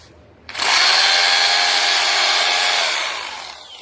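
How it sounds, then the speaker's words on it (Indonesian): A power drill fitted with a long masonry bit bores into stone. It starts abruptly and runs as a loud, steady, close whine for about three seconds, then begins to fade. "mata bor panjang banget ini masuk full ya sampai notok ya"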